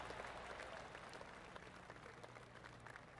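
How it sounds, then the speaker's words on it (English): Gallery spectators in PGA TOUR 2K25 at Paraparaumu Beach, New Zealand, give a soft golf clap, a very faint, even patter of many hands that holds steady for about three seconds. "That deserves a golf clap."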